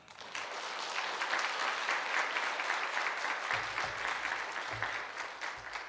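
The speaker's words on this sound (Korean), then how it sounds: "목사님 나오실 때 우리 박수로 환영하도록 하겠습니다." An audience at a church lecture applauding to welcome a pastor, broad sustained clapping from many hands throughout, with faint murmurs underneath.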